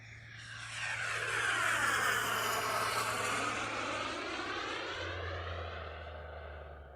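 An MB339 turbine-powered RC model jet, a beginner turbine model, flies past with a steady broad jet roar and whine that swells and stays loud and close throughout, with no talking.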